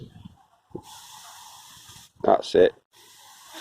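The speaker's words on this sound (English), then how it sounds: "Just spray the ground with it." Farm water spray hisses over the ground in a long steady wash, broken by brief pauses, with someone talking in between.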